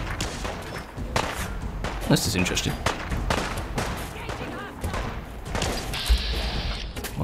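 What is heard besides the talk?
explosion in the video game Fallout 4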